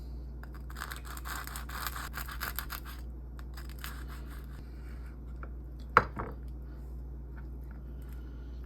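A knife slices through a low-carb, high-protein sushi burrito on a cutting board, with crunchy, rustling cutting sounds in the first few seconds and a sharp tap against the board near the end, all close and fairly quiet with no talk.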